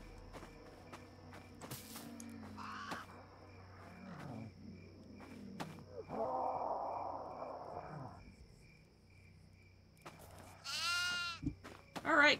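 A goat on a farm in a video game bleats in a few short, separate calls among sparse game sound effects, crickets and footsteps, with quiet gaps between.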